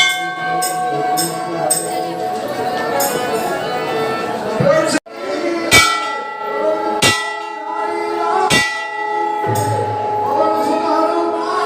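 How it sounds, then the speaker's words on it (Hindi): Metallic bell strikes ring out several times with lingering tones at Tameshwarnath temple in Khalilabad, amid a busy crowd and voices nearby. "घंटी है यहाँ पे।"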